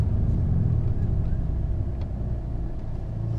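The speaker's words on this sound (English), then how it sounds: "all the traffic's going kind of crazy." Steady road traffic rumbles past as cars drive by on a busy road, a loud continuous low roar with no clear individual passes and no talking.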